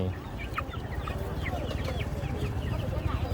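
Chickens for sale cluck and chatter close by amid a busy, noisy morning market in Dien Bien Phu, Vietnam, with murmuring voices mixed into the background.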